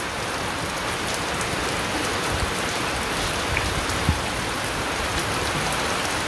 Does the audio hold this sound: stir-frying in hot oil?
no